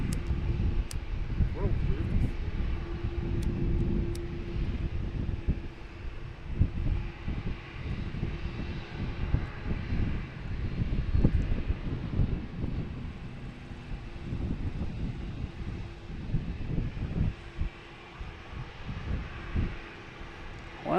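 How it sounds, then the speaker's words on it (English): A steady, rumbling airplane engine roar carries across Boston Logan Airport near runway 4 Left, mixed with buffeting wind noise on the microphone while a person talks intermittently. "That's going to just take off on 4 left and take a left turn and go."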